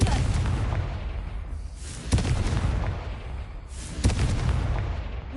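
Booming blasts from a Confringo blasting spell in a video game, two or three heavy explosions spaced a couple of seconds apart over a continuous rumbling background.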